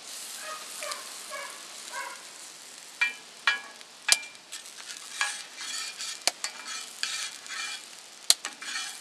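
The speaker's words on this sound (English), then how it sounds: "It doesn't take long to get a sizzle on that butter." Butter sizzles and crackles steadily in a 10-inch fry pan on a portable rocket stove, with a few sharp clinks and scrapes of a utensil against the pan.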